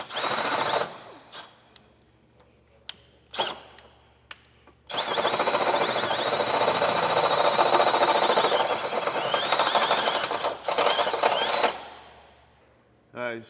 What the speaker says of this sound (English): I'm actually going to go with the step bit.